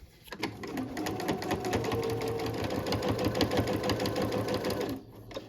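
A sewing machine runs steadily for about four and a half seconds, stitching a quarter-inch seam down the center of a cotton tote bag, close and even with a rapid mechanical rhythm before stopping abruptly.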